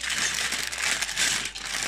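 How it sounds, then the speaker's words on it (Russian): A small plastic bag of LEGO pieces crinkles and rustles as it is handled close up, a dense, continuous papery crackle for about two seconds with no voices. "Еще один пакетик с детальками маленькими."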